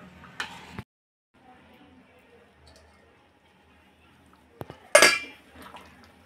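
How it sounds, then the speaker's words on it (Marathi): A metal lid clatters onto a cooking pot of simmering greens and dal, with a short clink near the start and a louder, ringing clang near the end, separated by a quiet stretch. "तर आता झाकण लावून मी छान अशी एक उकळी काढून घेते"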